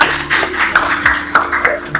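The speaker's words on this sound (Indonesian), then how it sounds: "kita berikan tepuk tangan buat kelompok 6" Classmates clap for a student group that has just finished presenting in a classroom, a steady patter of many hands close by, alone without talk.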